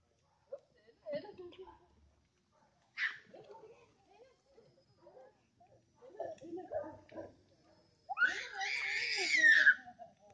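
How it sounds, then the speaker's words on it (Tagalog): A small child screams and cries, with bursts scattered through the clip and a loud, sustained wail near the end, among other voices talking on an outdoor walk in Tagaytay. "Sumisigaw-sigaw ka pa."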